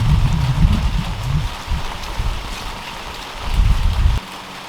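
Steady rain falls outside a house, a continuous hiss of drops on surfaces, fairly loud and close, with a few heavier low gusts that swell and drop away, and no talking over it.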